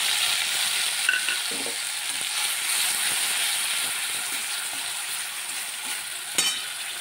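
Mustard-poppy seed paste with slit green chillies being stirred in a hot pan, giving a continuous sizzling hiss with a few sharper scrapes of the spoon, close and steady.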